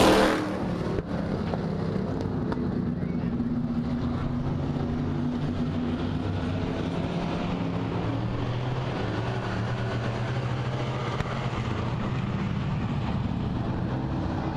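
Stock cars in a heat race at Springport Motor Speedway, a steady wash of engine drone and roar from a pack of cars circling the track at moderate distance, continuous throughout with no talk.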